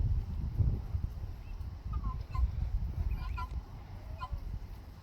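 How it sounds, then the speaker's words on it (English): Guinea fowl and a couple of chickens around a farm pen under a shade tree give scattered, sharp repeated calls in short bursts, moderately distant over a rumbling outdoor background. "Two chickens and the rest are guineas."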